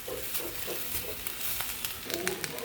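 Agathi leaves being stirred with chili powder in a frying pan, a soft continuous sizzle with light scraping strokes, and a voice talking intermittently over it.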